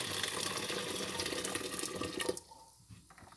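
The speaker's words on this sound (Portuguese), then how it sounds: "Agora eu vou colocar na panela de pressão aqui. E vou estar colocando água quente" Hot water pours into a pressure cooker for beans, a close, steady splashing stream that stops abruptly partway through, leaving quiet kitchen background.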